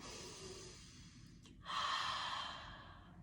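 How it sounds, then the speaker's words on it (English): A slow deep breath drawn in through the nose and let out through the mouth during a kids' yoga session, a soft airy inhale followed by a louder, fuller exhale, close and alone. "let's breathe in through the nose, out of the mouth, and again, and out."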